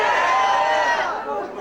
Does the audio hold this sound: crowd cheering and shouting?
yes